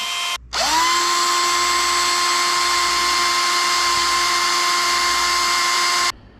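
A power drill bores through flat styrene plastic on a 1:48 Revell B-25J Mitchell model kit, whining at a steady high pitch for about six seconds after a brief start, close and loud with no talk.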